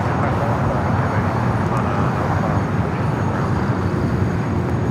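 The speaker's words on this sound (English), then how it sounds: "little corporate jet crossing over here on the west side. It's a Gulfstream." Gulfstream corporate jet taxiing across the west side of LAX, a steady, broad engine roar that holds at an even level throughout with no pauses.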